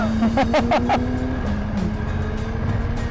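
A BMW F900GS motorcycle pulling hard at full throttle in a sporty riding mode: a quick run of rising engine revs near the start, then a sustained close, throaty drone as the bike keeps driving forward.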